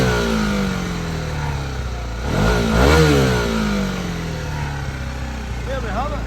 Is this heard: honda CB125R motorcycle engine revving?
yes